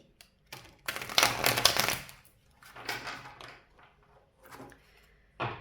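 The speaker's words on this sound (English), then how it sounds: "Let's shuffle your tarot cards first." Tarot cards are shuffled by hand in a quiet room, giving several uneven bursts of papery riffling and slapping, the longest near the start and shorter bursts following.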